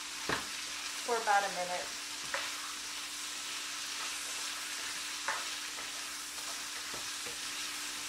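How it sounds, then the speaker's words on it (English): Potatoes and carrots stir-fry in a pan for Korean black bean noodles, a soft steady sizzle with occasional stirring clicks, while someone briefly talks over it. "Let's throw in the potatoes and the carrots."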